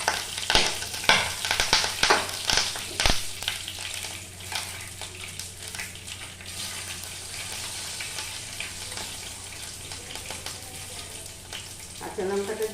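Green chilies frying in oil in a pan for prawn bhujia make a steady, close sizzle, with a burst of stirring clatter and scraping early on before the hiss settles into a continuous spatter.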